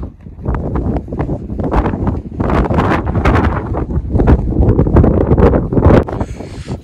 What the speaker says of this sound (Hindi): हवा बहुत तेज़ चल रही है यार, यहाँ पे लगता है रॉन्ग डिसीजन ले लिया यहाँ पे आने का, बहुत तेज़ हवा है।